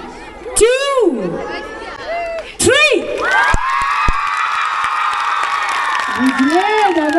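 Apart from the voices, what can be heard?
children cheering and shouting at a village fair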